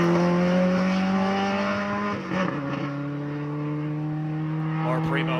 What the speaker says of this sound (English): Great sounds coming out of that car